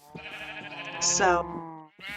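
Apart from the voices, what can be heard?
sheep bleating in a video game (Minecraft server)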